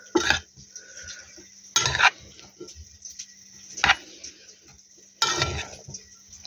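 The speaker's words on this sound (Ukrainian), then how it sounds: "Так, морква тут туди перемішаю" Carrot, beetroot, cucumber, potato, peas and onion are stirred together in a bowl for a vinaigrette salad, with four separate bursts of close, clattering mixing against the bowl and quiet pauses between them.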